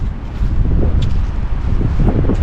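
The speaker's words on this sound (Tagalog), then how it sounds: "Grabe yung hangin." Loud, continuous wind roars and batters the microphone outdoors in Finland, a dense low rumble with no letup throughout.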